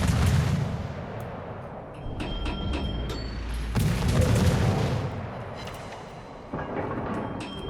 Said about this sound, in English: Nurnberg and the BB are shooting him